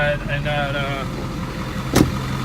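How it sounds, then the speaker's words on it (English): A truck engine idles nearby with a low steady hum, a short burst of other sound on top early on and a sharp click near the end. "Truck is running."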